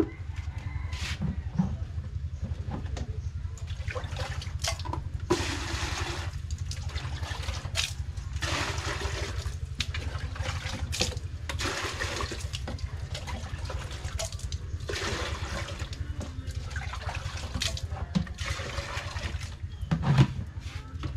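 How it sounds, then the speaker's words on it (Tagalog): Water scooped from a bucket at home, repeated splashing and trickling scoops in uneven bursts close by, with birds calling faintly in the background. "Kuha ako ng tubig dito guys sa balde."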